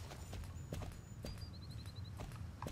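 Horse hooves clip-clopping at a steady gait while riding cross-country in the Star Stable online game, with faint whistling chirps over a low background.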